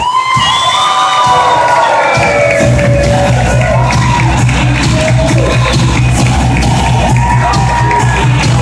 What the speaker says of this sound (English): a nice round of applause to the parents of the groom, Yvonne Donnelly and Paul Donnelly